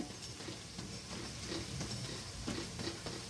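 Onion thool bajji, a loose onion fritter batter with curry leaves, coriander and mint, frying in a pan of hot oil, giving a soft, steady crackle and bubbling with faint stirring clinks, no one speaking.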